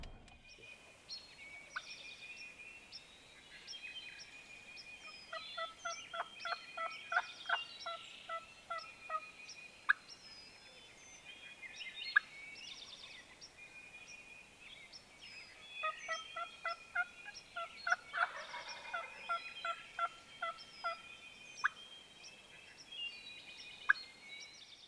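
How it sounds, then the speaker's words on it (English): Wild turkeys gobble repeatedly from the woods at daylight on a cold Ohio morning, rolling calls coming in clustered bursts at a moderate distance, with other birds calling faintly between them and no talk. "as it gets daylight, we got birds gobbling"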